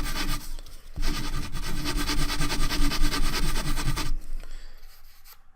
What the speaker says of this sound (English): And because it's balsa wood, it'll sand down pretty quickly.